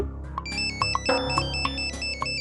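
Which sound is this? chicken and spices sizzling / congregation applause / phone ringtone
phone ringtone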